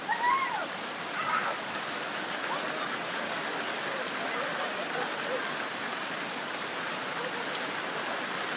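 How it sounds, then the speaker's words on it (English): Heavy end-of-summer rainstorm pouring down in a backyard by a pool, a dense, steady hiss of rain with faint distant voices and a brief squeal near the start. "And now we have a monsoon of a rainstorm."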